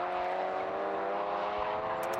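Race cars drive at Anglesey circuit during a BRSCC race meeting, a sustained whirring engine drone with steady tonal harmonics, moderately close and continuous, heading toward a braking zone.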